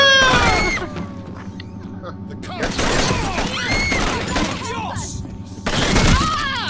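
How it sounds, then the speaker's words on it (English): Gunfire in the tactical shooter SWAT 4, sharp sudden blasts and crashes amid a chaotic standoff, with shouting voices and loud game noise around them. "Oh no, he shot!"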